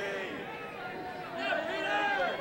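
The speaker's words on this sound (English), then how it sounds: "Really nice crowd has come out here to the semifinal Saturday action in" Crowd murmur and scattered cheering at an ultimate frisbee semifinal in Frisco, a steady mid-distance babble that swells slightly toward the end.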